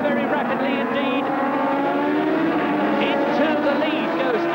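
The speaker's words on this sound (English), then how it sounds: "The rear of John Welch's four-wheel drive car, and that's going to disappear very rapidly indeed." A four-wheel drive Ford Escort rallycross car races at Brands Hatch in 1985, its engine a loud, continuous roar with shifting pitch as other cars run nearby, a commentator talking over it throughout.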